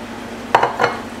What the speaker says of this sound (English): I'm going to add the sliced onion